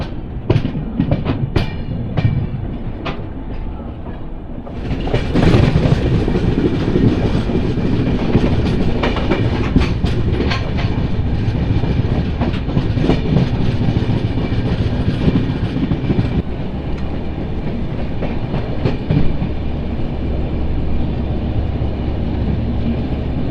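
The Tirumala Express passenger train runs on rails on the line towards Gudur, with a loud continuous rumble and rhythmic clickety-clack of wheels that swells after a few seconds and stays steady.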